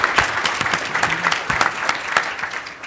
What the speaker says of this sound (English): let's give Robert a huge Orange County welcome and round of